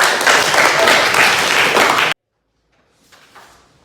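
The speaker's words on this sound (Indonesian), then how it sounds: "Tepuk tangan dulu buat Amelia" Classmates in a high school Indonesian language lesson clap for a student, a busy burst of applause that stops abruptly, followed by near silence and a faint trailing rustle.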